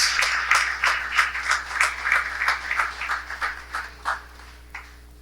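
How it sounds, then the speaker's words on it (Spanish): A church congregation claps in response to a call for praise, a loose run of individual claps that thins out and fades over several seconds over a low steady hum. "Un aplauso para Él"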